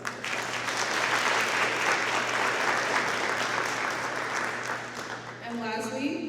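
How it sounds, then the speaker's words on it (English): Sustained applause from a large crowd at a National Honor Society induction ceremony, steady and dense for several seconds, fading slightly near the end as a few voices come through. "Give a round of applause to yourself."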